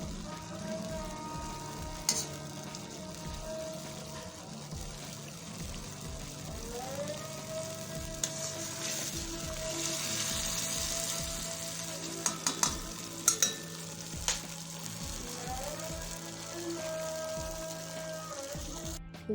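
Charsi karahi sizzles steadily in oil during bhunai, a continuous crackling fry with occasional sharp scraping clicks from stirring, under soft background music.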